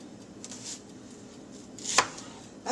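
A knife cutting an onion on a board in a home kitchen while making nachos, a quiet stretch broken by a couple of sharp, close chops near the end.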